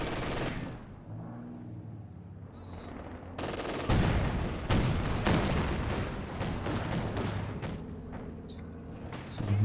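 Automatic machine gun suppression fire from a real-time strategy battle, dense rattling bursts and scattered shots sustained across the stretch, loud and mid-distance with a low background rumble.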